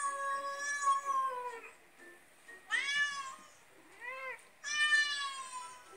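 Several cats meow close by in a short series of drawn-out, plaintive cries with brief pauses between them.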